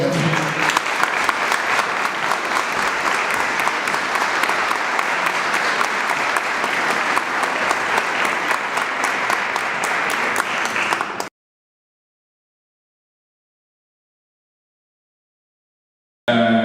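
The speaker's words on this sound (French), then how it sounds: "Et je vous demande de l'applaudir bien fort." A crowd at a political meeting in La Rochelle gives a speaker loud, continuous applause lasting about eleven seconds, then cuts to silence before a brief burst returns at the very end.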